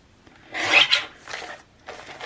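Paper being trimmed for a junk journal pocket, heard as three short close rasping cuts, the first strongest and the later two softer, with no talk.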